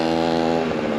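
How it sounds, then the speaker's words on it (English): A very loud motorcycle engine drones close by in a steady, rough, buzzing roar without pause. "that bike is so flippin' loud, dude"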